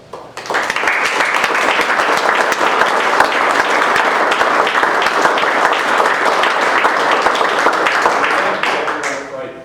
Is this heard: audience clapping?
yes